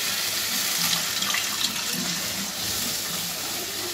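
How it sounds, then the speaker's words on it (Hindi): Water splashes steadily into a pan of simmering paneer gravy for a kadhai paneer dish made without onion or garlic, a continuous close pouring rush with no talk. "पानी इसमें डाला है।"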